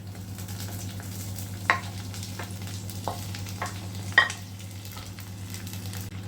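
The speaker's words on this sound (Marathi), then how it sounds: "आता आपण ह्याच्यात काय करूया ही कोलंबी ॲड करूया" Prawns frying in hot oil with garlic, a steady close sizzle with occasional sharp clinks and scrapes of a spatula against the pan, no talking.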